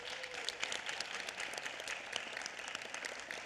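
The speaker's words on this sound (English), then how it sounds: "Let's give them all a round of applause." Audience applause at a Los Angeles County Board of Supervisors meeting, a steady patter of many hands clapping at moderate level for about three seconds, with no talking over it.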